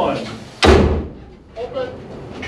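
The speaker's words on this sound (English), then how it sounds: "Fire one." A 5-inch 38 naval gun fires a single salute round, a sharp loud boom that decays quickly, followed by brief voices nearby.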